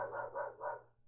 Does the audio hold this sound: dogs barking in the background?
yes